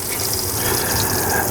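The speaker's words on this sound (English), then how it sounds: "open all of our faucets to allow all the water to drain" Water gushes from open faucets draining a plumbing system during winterization, a steady, close hissing rush that holds constant throughout.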